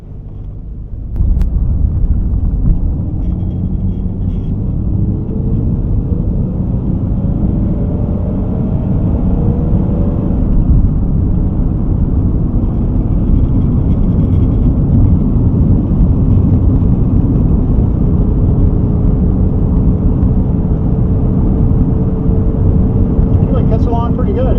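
A 1955 Chevrolet Bel Air coupe with its Blue Flame inline six drives along, a steady low engine drone and road rumble that starts with a sharp bump and holds loud and even throughout.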